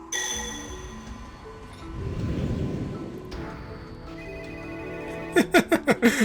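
A phone rings in the video game Tokyo Afterschool Summoners, a quick series of sharp electronic pulses near the end that follows a stretch of sustained game music and a soft rumbling swell.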